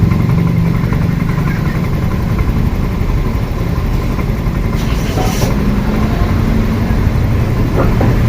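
A Yamaha Mio Soul i 125 scooter engine warming up after throttle body cleaning, a steady close idle drone with a brief rise in revs midway, loud and continuous with no talk.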